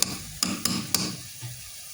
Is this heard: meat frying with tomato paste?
yes